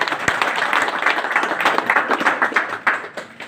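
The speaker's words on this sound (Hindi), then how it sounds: "इनके लिए एक ताली की जरूरत।" Audience applause at a talk about a software engineer from Bihar, a fairly close, uneven patter of hand claps from a modest crowd that carries on steadily without any talk.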